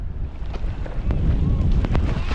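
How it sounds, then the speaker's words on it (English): A strong gust of wind blows hard across the microphone outdoors on the water during a windsurfing session, a loud, rough roar that swells and stays heavy through the clip. "There was one gust then, it was gnarly."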